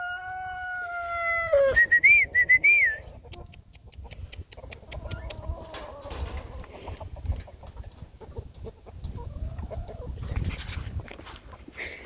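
Chickens cluck and squawk near a hoop coop being moved, with a loud crow-like call early on and scattered clucks and rustling throughout, a voice occasionally coaxing them.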